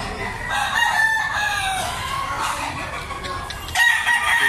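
A White Kelso gamefowl rooster crows nearby at a market, a long, clear cock-a-doodle-doo heard twice over a busy background of other fowl clucking and faint voices.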